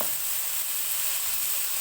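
Thinly sliced mixed vegetables sizzle steadily in a hot pan, giving a continuous, even, close frying hiss with no talk.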